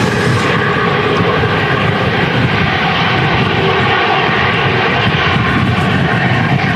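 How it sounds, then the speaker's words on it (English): Airliner landing at Manchester Airport in strong crosswinds during a storm, a loud, steady engine roar with heavy wind noise holding for several seconds, close and continuous, with no voices. "Bit of a twitchy landing there"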